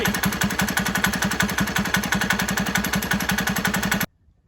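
A small 196cc engine chugs loudly at a steady, rapid putter, close by, then cuts off abruptly into silence.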